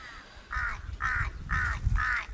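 A bird, likely a crow, gives four evenly spaced harsh caws, close and loud, over low rustling background noise.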